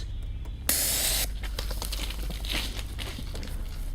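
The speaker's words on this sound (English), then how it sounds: "he got out a miraculous spray and sprayed it on the bear" Bear spray discharges in one loud, steady hiss lasting about half a second, followed by fainter crinkling and rustling noises.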